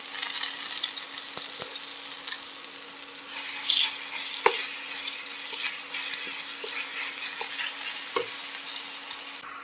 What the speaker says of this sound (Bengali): জিরা আর শুকনো লঙ্কা ভাজা হয়ে গেছে, এর ভিতরে আমি এখন আদা, রসুন আর পেঁয়াজের পেস্টটা দিয়ে দেবো।